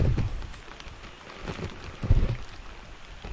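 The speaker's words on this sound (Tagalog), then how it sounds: "sobrang lakas ng ulan yan" Heavy rain falls in a rural lanzones orchard beside rice paddies, a dense, rushing roar that swells and eases, with deep rumbling surges underneath.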